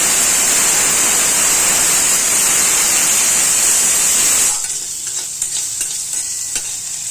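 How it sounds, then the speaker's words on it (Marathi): Vegetable bhaji with mustard seeds frying in pickle oil, a loud steady sizzle that drops sharply partway through, leaving quieter crackles and occasional stirring scrapes. "चांगलं फ्राय होऊन द्यायचं, थोडंसं कडक झालं पाहिजे."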